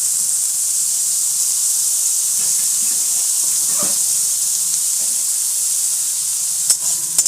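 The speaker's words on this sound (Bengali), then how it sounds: "এবার এটাকে ভালোভাবে ভালোভাবে ফুল আঁচ করে একদম একটু লাইট ব্রাউন ব্রাউন কালারের ভেজে নাও।" Soya chunks, squeezed of water, fry in a pan over high heat with a steady close hiss and sizzle, a few faint stirring scrapes and clicks near the end.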